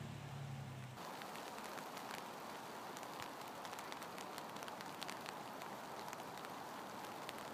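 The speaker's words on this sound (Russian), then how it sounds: "опять пошел дождь" Rain falls in a winter Oregon forest on the Wildwood Trail, a soft, steady patter of drops on leaves and ground with scattered sharper drips throughout.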